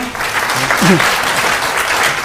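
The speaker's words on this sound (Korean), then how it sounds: "큰 박수 부탁드립니다" Seminar audience at a Microsoft Azure infrastructure session applauding to welcome a presenter, a brief, fairly loud burst of many hands clapping with a faint voice briefly underneath.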